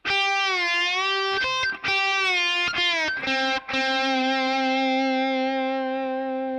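A slide guitar lick from a song, with distorted, effected tone: sustained notes glide between pitches, a few quick choppy notes in the middle, then a long held final note ringing out alone.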